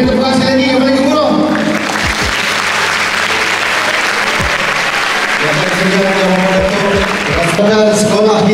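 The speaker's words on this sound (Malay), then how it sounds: "Berikan tepuk tangan sekali lagi kepada guru" A school audience in Negeri Sembilan applauds its teachers at the launch of a Galeri Malaysia Madani: a loud burst of crowd clapping swells in the middle, with a speaking voice over a public address before and after it.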